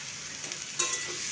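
Sliced tendli frying in a pan with black pepper and garam masala, a steady close sizzle with a brief stirring scrape partway through.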